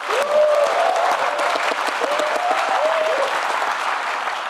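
Loud, sustained applause and cheering from a large audience at a Korean political event in Jeonbuk, a dense wash of clapping with a few rising whoops carried above it, steady throughout without speech.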